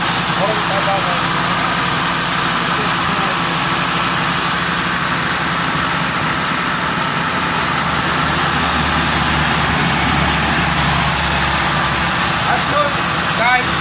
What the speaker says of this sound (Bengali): মামা সাউন্ডটা দেখান ভালো আছে